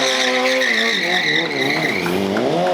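A BMW S1000RR motorcycle performs a stunt in a parking lot, its rear tire screeching in a loud, sustained, wavering squeal under the high rev of the engine, close and with no pauses.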